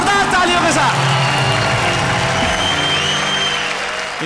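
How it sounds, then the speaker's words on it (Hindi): A studio audience at a Hindi comedy show breaks into loud applause to welcome a special guest, a dense burst of clapping that tapers slightly toward the end. "जोरदार तालियों के साथ"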